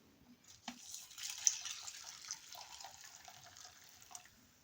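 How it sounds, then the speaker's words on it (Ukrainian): Boiling water poured from a kettle over crushed instant noodles in a bowl, a soft, steady liquid hiss and trickle lasting several seconds at close range, quiet overall, with no talk. "заливаємо її окропом"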